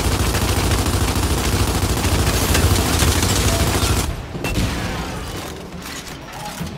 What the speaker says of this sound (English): Now let's try using blind fire to destroy them while keeping yourself protected and covered.